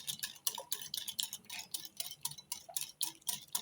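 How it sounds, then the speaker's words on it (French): Yogurt cake batter being stirred in a bowl, with a quiet, close, rhythmic scraping and clicking of the utensil repeating about three times a second and no speech. "Bien mélanger."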